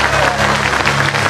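Loud, dense audience applause filling a revival meeting tent, close and continuous for the whole short stretch, with a low hum beneath.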